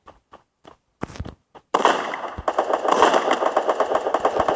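Gunfire in the shooting game Free Fire: a few sharp single shots, then a loud sustained burst of rapid automatic fire, close and dense, with no talk over it.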